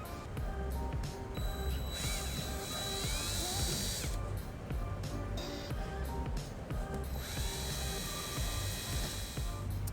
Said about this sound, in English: a few body fasteners here that take a Phillips screwdriver or drill to remove